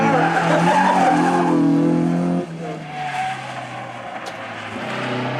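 A race car's tires screech loudly in a long skid over a droning engine, then the squeal eases as the motor keeps humming.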